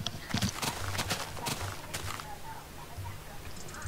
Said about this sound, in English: Oh my god, a horse! A horse!